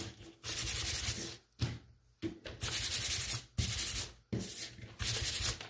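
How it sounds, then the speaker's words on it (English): Hand sanding along the edges of a painted wooden craft witch's broom, a light pass; several long rasping strokes in bursts separated by brief pauses, close and steady, with no talking. "I'm just going to give my edges a little sanding"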